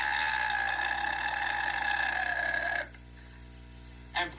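A voice imitates a huge, gigantic burp with a long, loud, gravelly rasp that cuts off abruptly, followed by near silence and a brief short burst at the end.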